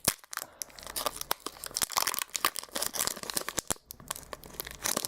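A dollar store trading card pack is torn open by hand. Close, irregular rips mix with crinkling foil wrapper and crunchy bursts that come in fits and starts for about five seconds.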